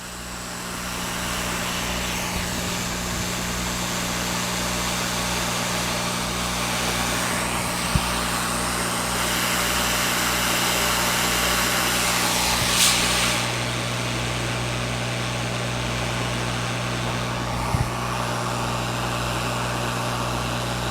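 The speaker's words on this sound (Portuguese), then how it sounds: "Vou ligar aqui o soprador." A hot air rework blower used with tweezers to melt the solder on a MacBook logic board gives a steady, continuous whooshing hiss that stays even throughout, with no talking.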